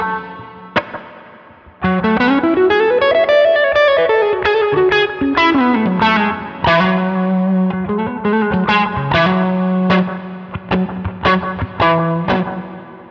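Electric guitar plays a melodic line through an HX Stomp XL plate reverb, notes ringing into long, washy reverb and echoing repeats, a few sharp plucks standing out.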